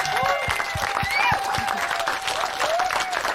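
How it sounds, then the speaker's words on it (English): An audience at a London film screening and conversation event applauds a documentary director: sustained clapping mixed with crowd murmur and a few faint cheers, fairly full and close across three seconds. "I think we should all give Sinead another round of applause for that, please."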